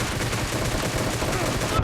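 Rapid, continuous gunfire in PUBG Mobile, a dense stream of shots blowing up a car, loud and close, ending abruptly.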